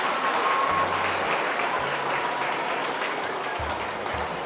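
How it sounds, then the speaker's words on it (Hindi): Loud, dense applause from an audience of students and staff at a school chemistry demonstration event, a steady wash of clapping sustained throughout with a faint crowd murmur beneath. "सबसे पहले जोरदार तालियां।"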